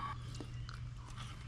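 Someone snacking during a break from installing a Ferrari clutch in a garage, with close, soft chewing and a couple of small bites over a steady low mechanical hum.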